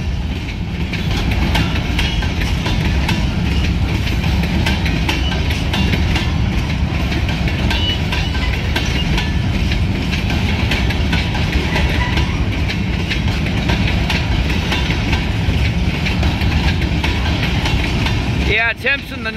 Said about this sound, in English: Holy moly, we got a train.